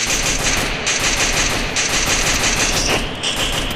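Rapid automatic gunfire in the mobile battle game Free Fire, loud dense bursts of shots in several close volleys with brief breaks between them.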